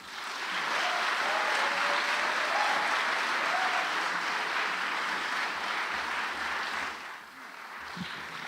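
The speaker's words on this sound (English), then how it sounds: "Give him a big round of applause" A university lecture audience greets an introduced speaker with sustained applause, a thick, even roar of many hands held at full strength for several seconds before easing off near the end, with a faint voice or two at the fade.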